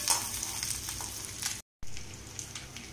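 Ginger, garlic and green chilli frying in a hot pan, a steady close sizzle with crackling spatter that drops out for a brief moment, then resumes, with no talk.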